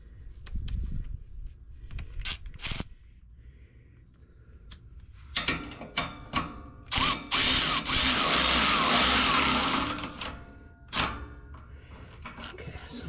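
A 12mm socket on a ratchet tightens a bolt on a catalytic converter shield brace under a 3rd Gen Toyota Tacoma 4WD, with clicking ratchet bursts and metallic clatter, then a dense stretch of cranking, with quiet gaps between.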